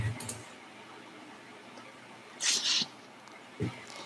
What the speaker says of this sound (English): I have a cat on my lap.